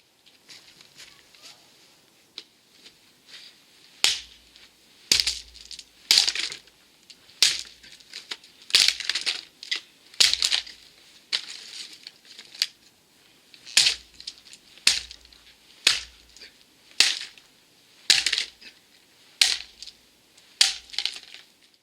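Hard bits like rubble or marbles dropping into a sock, a long run of irregular clattering clicks and knocks, close and fairly crisp, with no talk.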